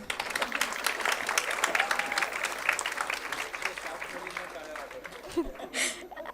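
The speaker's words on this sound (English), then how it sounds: "I'm sure 5 years of hard work deserves more applause." Audience applause fills a graduation ceremony as names are read, with steady dense clapping throughout, a few voices and chuckles mixed in, and the clapping swelling briefly near the end.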